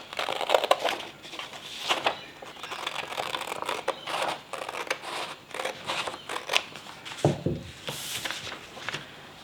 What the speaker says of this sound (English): carefully cut out my paper pattern.